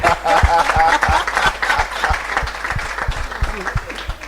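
A studio audience applauds for a pastor on a Sunday TV talk show, dense close clapping that holds steady throughout with some voices mixed in.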